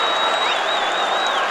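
A crowd and student section cheer a boys Class A state championship basketball win, a dense, loud, continuous roar of applause and shouting with a whistle-like tone riding above it.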